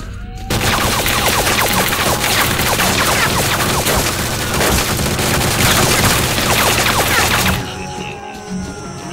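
Sustained automatic gunfire in the video game S.T.A.L.K.E.R. Clear Sky, with an army squad firing: loud, dense rapid bursts and booms for about seven seconds, then an abrupt drop to quiet ambience.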